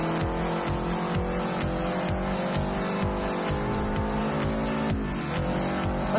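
A BMW M1 driven in a video game: a steady, loud engine roar with repeated rising revs and gear shifts, continuing without pause throughout.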